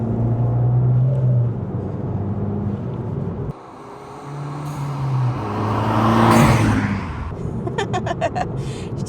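A modified 2021 Abarth with 230 bhp accelerating, its engine note rising in roars between gear changes with a brief drop and whooshing turbo sounds, heard from inside the car.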